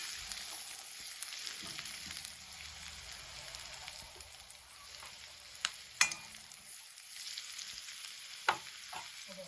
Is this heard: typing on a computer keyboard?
no